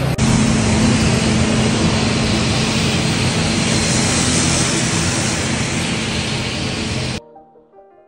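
Jet aircraft engines roar loudly and steadily during night boarding for a Kathmandu to Dhangadhi flight, a broad close whoosh that cuts off abruptly near the end, leaving faint quiet sounds.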